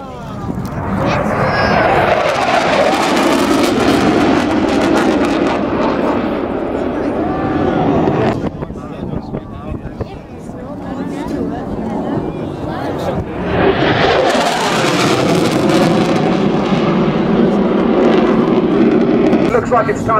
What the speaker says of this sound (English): The tornadoes are going to come in from the left and defeat the enemy forces using air power.